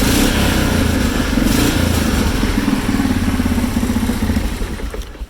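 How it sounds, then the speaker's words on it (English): A Yamaha Kodiak 400 quad bike engine idles close by with a loud, steady, rough chugging that carries evenly throughout and tapers slightly at the end. "It starts straight up and it runs fantastically."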